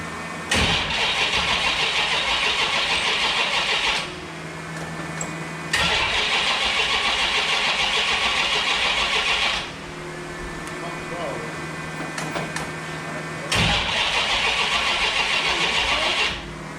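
A small block Mopar V8 fresh from a cam break-in is started three times, each crank catching into a loud, close roar that runs several seconds before dropping back to a quieter hum.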